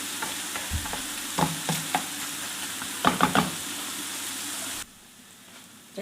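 Minced meat keema sizzles steadily in a pan while a spoon scrapes and stirs it in irregular bursts, close and clear; the frying hiss cuts out abruptly near the end.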